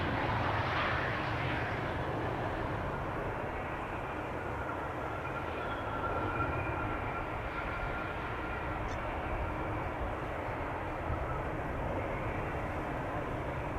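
A steady low roar of an airliner's jet engines arriving on runway 27 at Amsterdam Schiphol Airport fills the whole stretch at a distance, constant and broad with no clear rise or fade.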